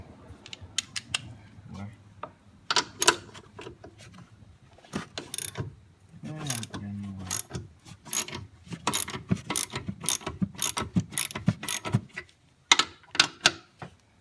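A ratchet with a 13 mm socket clicks in quick bursts of short sharp ticks while removing a front air strut on a Mercedes CLS500, with pauses between strokes.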